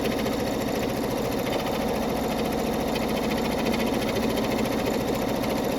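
A Brother NQ3550W embroidery machine stitching a stitch-intensive lace heart design at high speed, a loud, steady rapid mechanical whir and clatter that runs unbroken throughout.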